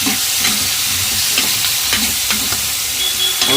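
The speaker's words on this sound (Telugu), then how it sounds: "కరేపాకు ఉల్లిపాయలు దీంట్లో వేసుకొని ఫ్రై చేస్తాం" Loud, continuous sizzling of curry leaves and onions frying in hot oil, with repeated scraping strokes of a spoon stirring the pan.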